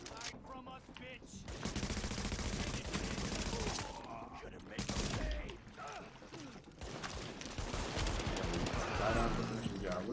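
Blind fire in Tom Clancy's The Division, with repeated bursts of automatic gunfire at close range interspersed with mechanical weapon clicks and loud impacts across the clip.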